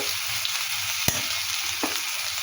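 Fish spiced with coriander, cumin and chili powder fries in a pan with a steady close hiss and sizzle, broken by a sharp clink and a brief scrape of stirring.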